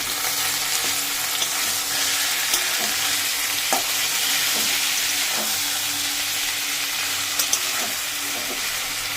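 Meat frying with onion and a little turmeric in a pot, a loud, dense, continuous sizzle up close with occasional soft knocks of stirring and no talk.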